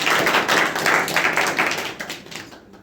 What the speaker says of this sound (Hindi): ताली बजाइए भाई इनके लिए।